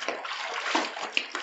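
A white towel is washed by hand in water, with steady sloshing and splashing that rises and falls in soft rhythmic swells, close up and with no talking.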